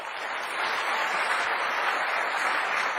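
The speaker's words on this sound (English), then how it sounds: "One more round of applause, ladies and gentlemen" Steady audience applause after a speech at a Jai Hind event, dense and sustained with many hands clapping together, loud and continuous for the full stretch with no voices over it.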